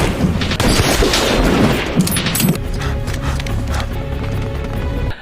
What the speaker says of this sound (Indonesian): Brandon berhasil menembak mati pengamat dan ahli IT Gazakov